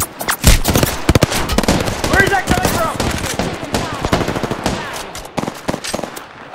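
Rapid gunfire in the shooter Apex Legends crackles in dense, loud bursts of automatic shots, nearby and sustained for several seconds, with a voice talking over the shooting.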